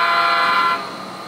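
A single loud, sustained locomotive horn blast during local rail switching, bright and brassy, fading slightly toward the end.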